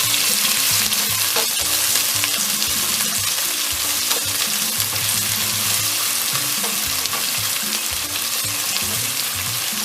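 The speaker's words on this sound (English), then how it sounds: "I'm just frying my onions for about 1 minute" Onions sizzle steadily in hot oil for cabbage stew, a dense crackling hiss throughout with occasional scrapes of stirring, close and continuous.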